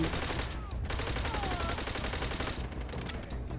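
Rapid gunfire crackles in Call of Duty: World at War, dense bursts of automatic shots continuing throughout with a brief lull, loud and close.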